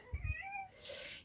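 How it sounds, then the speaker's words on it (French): A house cat gives a soft, drawn-out meow, faint and close in a quiet indoor room, with a few low thumps just before. "Tiens, voilà mon chat."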